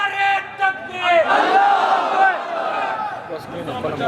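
A large crowd at a madrassa religious gathering roars a loud, sustained chant of Allahu Akbar in unison in reply to a takbeer call, swelling and holding for a couple of seconds before fading.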